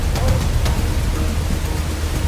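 Water gushes from the opened gates of the Bargi dam as a steady, loud, broadband roar that fills the whole stretch without a break.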